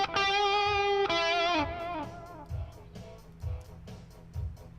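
Distorted electric rock guitar recorded in Reaper with reverb and no delay: a sustained chord rings out and decays, followed by a few softer plucked notes and brief voice sounds.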